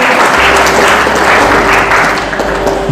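A church congregation bursts into loud, dense clapping during a Hindi-language worship quiz, many hands beating together in a continuous roar of applause with a faint steady hum beneath.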